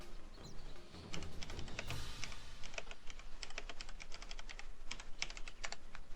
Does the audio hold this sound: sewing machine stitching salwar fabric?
no